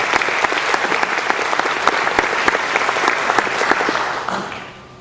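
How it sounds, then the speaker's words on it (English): Steady applause from a college convocation audience honoring a departing faculty member, sustained and dense for several seconds before tapering off at the end. "please join me in a round of applause thanking him for his service to the college"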